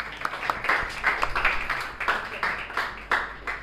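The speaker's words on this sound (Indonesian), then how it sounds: "tepuk tangan semua" A classroom full of students claps together in a sustained burst of applause, a dense patter heard over room tone, and a single spoken word comes through briefly at the start.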